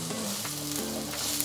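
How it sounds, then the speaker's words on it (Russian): Onion and carrot sizzle steadily in a hot pan, a continuous close frying hiss with faint stirring. "Продолжаем обжаривать."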